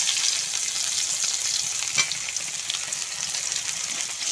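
Pieces of bitter gourd (uchhe) fry in hot oil with a steady, close, bright sizzle and a faint crackle, continuous and without talk.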